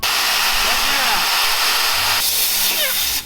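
Air hisses steadily into an off-road tire with its valve stem removed, a loud continuous rushing that shifts in pitch partway through as the bead seats at low pressure.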